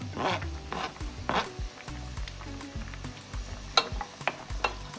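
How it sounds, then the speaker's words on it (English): Onions and garlic going into a hot pan for a lamb and potato stew, sizzling and frying steadily with sharp clatters as the pan is stirred, close and alone. "I'm gonna go in with onions and garlic at the same time."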